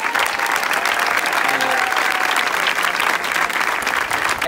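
Steady crowd applause fills a summer camp gathering, dense and continuous throughout, with faint voices mixed underneath.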